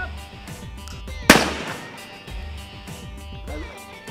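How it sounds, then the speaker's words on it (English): A single sharp gunshot fired at a baseball tossed high into the air on a farm, a loud crack with a short echoing tail that stands out from the quieter ambience around it. "Turns out if you shoot a baseball this high, it goes a long ways."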